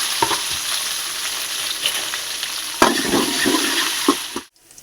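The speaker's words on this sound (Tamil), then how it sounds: "இப்போது இந்த பூண்டை கொட்டணும் எண்ணெயில் போடும்போது நல்லா வாசமாக இருக்கும்" Garlic and onion sautéing in hot oil for a fish curry, producing a loud, continuous close sizzle with a few spoon strokes, cutting off abruptly at the end.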